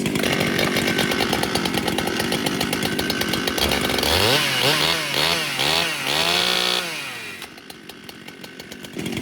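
An old Husqvarna chainsaw running close by, a loud buzzing two-stroke drone that rises and falls through several revs in the middle before settling back to a rough idle.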